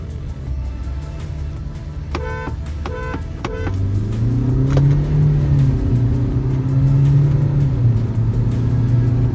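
A Kia Seltos and a Honda Elevate launch in a drag race, a loud close engine drone rising in pitch as the cars accelerate, with a few sharp beeps near the start.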